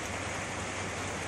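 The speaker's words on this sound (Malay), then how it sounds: "Hari ni hujan" Rain falls steadily outdoors beside a parked Perodua Kancil 660, a dense, even wash of close patter with no breaks and no voices.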